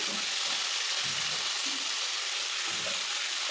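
Two garlic cloves frying in hot oil in a pan, a steady close hiss and crackle with faint stirring bumps, alone without talk.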